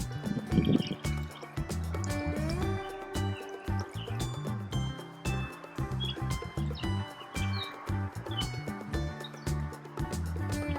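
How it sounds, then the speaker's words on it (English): Water poured into a bowl to make instant snow, a close, continuous pouring and trickling sound with small drips and splashes, moderately loud and with no talk over it. "You pour the water into the bowl."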